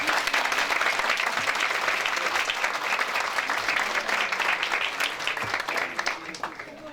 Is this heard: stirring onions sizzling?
no